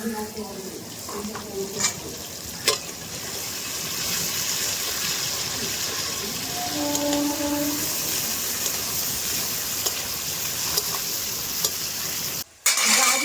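Carrots for fried rice frying in a wok, with a steady, close hiss of sizzling oil, occasional clinks and scrapes, and a brief clatter near the end.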